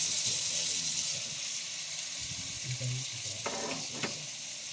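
Pork sautéing in a hot pan for Filipino igado, a steady broad sizzle throughout with a few brief stirring clatters near the end.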